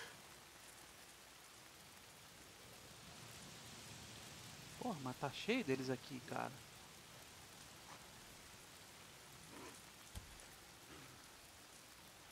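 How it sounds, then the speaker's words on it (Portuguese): Rain falling steadily in the video game Days Gone, a constant soft hiss throughout with someone briefly speaking over it midway. "Tá sempre chovendo."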